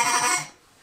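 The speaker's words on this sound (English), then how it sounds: "You'll often hear them also making what I call a laughing sound." One short burst of wood duck laughing calls: rapid, bright, chattering notes lasting under half a second, close and fairly loud, then quickly fading.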